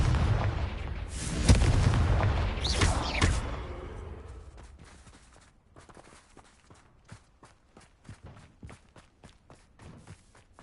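A Confringo explosion spell in the video game Hogwarts Legacy bursts with a loud, rumbling blast over the first few seconds, then fades into light, steady footsteps.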